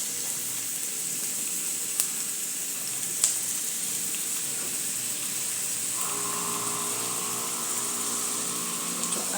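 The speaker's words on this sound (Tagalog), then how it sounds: "mag-isa na tayo ng ating bawang, sibuyas, kamatis dito sa ating pan" Garlic, onion and tomato sauté in a pan with a steady, close hiss of sizzling oil that grows slightly brighter partway through, with a couple of faint clicks of utensils.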